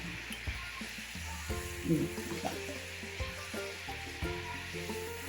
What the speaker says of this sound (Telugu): ఒక్క నిమిషం ఇట్లా వేయించుకుంది పప్పు అంతా ఫ్రై అయిపోతే ఇట్లా పైకి వచ్చేస్తుంటాయి